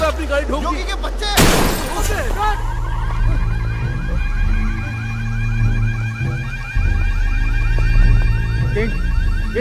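One car rams another with a sudden loud crash and shattering burst, then a car alarm wails on in a repeating electronic pattern, with voices over it, in the film Mission Majnu.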